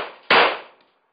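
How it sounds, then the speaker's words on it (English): A single sharp report from a Smith & Wesson 22A-1 .22 pistol fired at an outdoor bench, a loud crack with a short decaying tail and no voices. "let's crack off some rounds"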